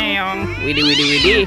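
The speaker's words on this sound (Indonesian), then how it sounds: "Ada kucing" A toy cat lets out a loud, wavering electronic meow up close, with a voice chiming in briefly during the sound.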